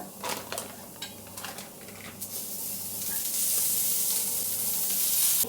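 Onions and masala frying in a pan for a Goan-style egg curry, with a few utensil scrapes and clinks early on, then a loud, steady hiss of sizzling oil that builds toward the end.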